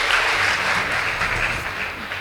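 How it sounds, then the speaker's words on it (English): A crowd at a judged school competition applauds steadily, a dense wash of many hands clapping at once, loud and sustained throughout with no voices breaking through. "Please give them a big round of applause."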